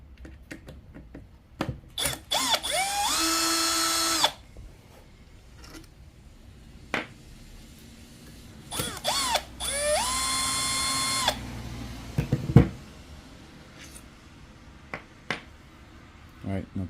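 A powered driver spinning out Torx 25 screws from the cover bracket on a 25cc two-cycle weed eater, heard as two separate close high-pitched whirring runs of about two seconds each, with scattered tool clicks and handling knocks in between.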